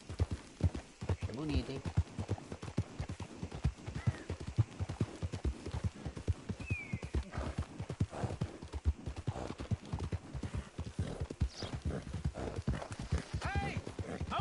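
A black horse in Red Dead Redemption 2 clops along with steady, close hoofbeats in a continuous rhythm, with occasional snorts, while someone talks over it.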